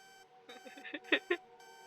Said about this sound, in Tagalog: Uy, alarm mo.